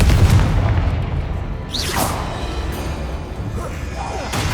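A Confringo blast spell explodes in the Hogwarts Legacy video game, a loud booming burst followed by whooshing magical streaks amid battle noise against inferi, with a voice speaking over it.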